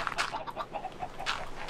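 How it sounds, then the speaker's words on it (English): Chickens in the video game Minecraft give a few short, quiet clucks in quick succession, faint and close, with nothing else over them. "I'm gonna murder all my chickens in a second."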